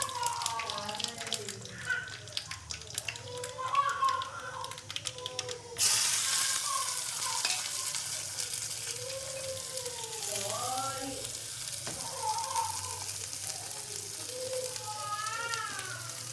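Cumin and onion fry in a small pan and are stirred, giving a soft sizzle and light scraping under a voice speaking throughout, with the frying growing brighter and louder partway through.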